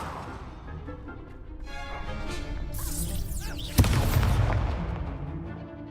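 An Expelliarmus spell cast in Hogwarts Legacy swells from a rising magical shimmer and whoosh into a sharp, loud crack and rumbling boom, then a fading rumble.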